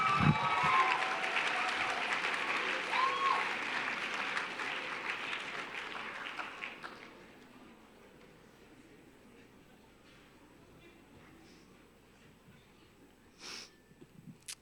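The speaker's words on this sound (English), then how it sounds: "Give them all a huge round of applause." Audience applause at a poetry and song open-mic night, loud clapping for about seven seconds that then fades out, leaving quiet room noise with a few scattered sounds near the end.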